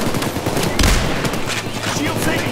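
Rapid automatic gunfire in a PayDay 2 heist shootout, a loud dense stream of shots with a heavier blast partway through, sustained over game background noise.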